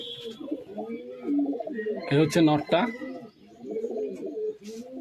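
Bajir racing pigeons coo close by in a repeated, rolling rhythm, while someone speaks briefly over them.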